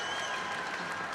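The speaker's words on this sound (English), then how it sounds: "And listen to the crowd come to their feet" A crowd applauds and cheers at a PIAA Class 5A state championship basketball game, with dense, steady clapping and roar filling the arena for about a second.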